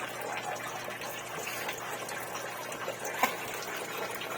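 Water from a crayfish tank filtration system runs in a steady, moderately faint gush and trickle, a continuous wash of flowing liquid with one small knock near the end.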